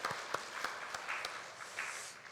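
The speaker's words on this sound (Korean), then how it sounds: "우리 감사하다고 박수하겠습니다." A church congregation at a Sunday worship service claps in thanks, soft and somewhat distant, with a few sharper individual claps standing out from the quiet patter.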